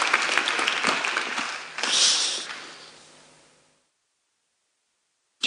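Audience applause at a German journalism talk fills the room loudly, swelling again briefly before fading out into silence, then a short burst returns at the end.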